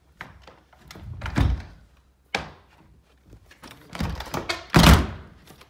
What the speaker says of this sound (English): Once you shut the door.